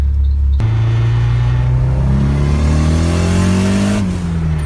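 A car engine revs hard and climbs steadily in pitch, loud and close, with a gear shift near the end before it keeps pulling.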